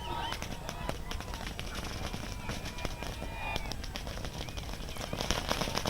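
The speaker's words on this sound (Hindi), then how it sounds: "लोग आतिशबाजी वहां पर कर रहे हैं" Fireworks set off by a gathered crowd at an encounter site in Hyderabad, rapid crackling bangs and pops in a continuous barrage over crowd noise, moderately loud and somewhat distant.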